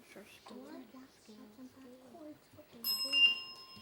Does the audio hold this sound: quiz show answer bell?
yes